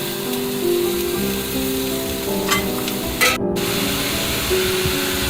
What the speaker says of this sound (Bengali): তারপরে ভালো করে ধুয়ে টুকরো করে কেটে রাখা লাউ দিয়ে দিচ্ছি।